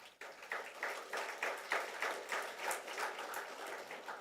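Scattered, fairly faint clapping from the audience at an IIT Madras convocation ceremony, with individual claps distinct in a loose, uneven rhythm and no talking over it.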